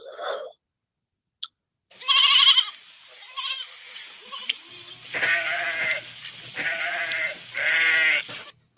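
A goat bleat sound effect plays as a few loud, wavering, nasal bleats, the last three long and close together, after a brief click and some shorter cries at the start.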